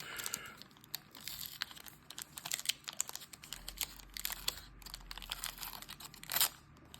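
Packaging from a Ravensburger parcel crinkles and tears up close as it is opened, with quiet scattered crackles, rustles and sharp little rips.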